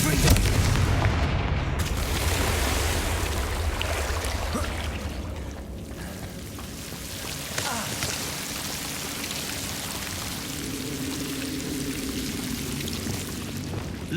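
Confringo spell blasts in the Hogwarts Legacy video game, a dense roaring wash of booming explosions and crackling debris that stays loud and continuous, with a sharp burst near the middle.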